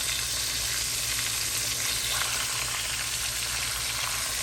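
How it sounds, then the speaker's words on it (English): Loud, steady sizzling of buttermilk pork chops frying in a hot pan, a dense crackling hiss that continues without pause. "when chops are frying"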